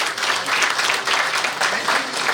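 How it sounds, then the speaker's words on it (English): Audience applause at an HR excellence awards ceremony, a dense, continuous patter of many hands clapping in pulsing waves throughout, fairly loud and close, with no talk over it. "Give him a big round of applause"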